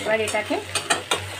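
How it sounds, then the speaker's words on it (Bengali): Spices for pumpkin curry (kumror chokka) are stirred in a hot pan, with a few quick scraping strokes over a light frying sizzle, close up, and a brief spoken phrase at the start. "আর একটু ভালো করে আমি নেড়ে নেব"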